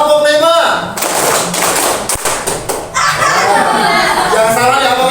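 A classroom group claps in rhythm during a concentration clapping exercise: a short run of sharp, close claps and taps, bracketed by voices before and after.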